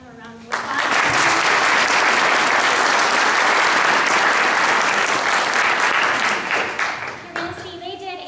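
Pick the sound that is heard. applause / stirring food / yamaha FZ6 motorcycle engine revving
applause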